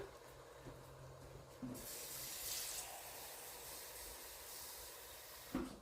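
A tap runs with a steady hissing splash of water, starting abruptly after a low hum and continuing evenly, with a brief clunk near the end.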